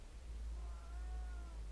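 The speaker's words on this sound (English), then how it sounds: "I hear a cat." A cat in a video game lets out a single drawn-out meow, faint and a little distant, over a low, steady background rumble.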